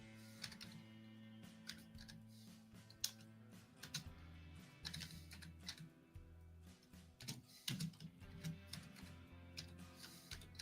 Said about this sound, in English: Uh-oh, Brian's typing